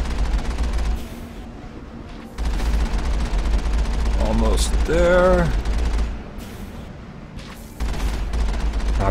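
Booming cannon volleys from a privateer ship battle in a naval video game roll on steadily, while a voice speaks briefly partway through and a short tonal game sound rises over the barrage.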